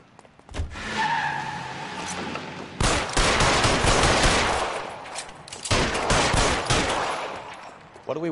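Rapid bursts of gunfire during a police shootout in the video game L.A. Noire, loud and close, with tyres screeching and engine noise between the volleys.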